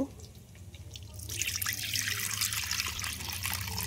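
Running water splashes over chopped bitter gourd pieces being washed, starting after a quiet second and continuing as a steady, close rushing trickle.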